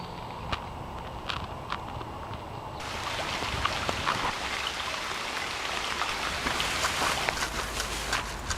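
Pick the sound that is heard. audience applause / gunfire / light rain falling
light rain falling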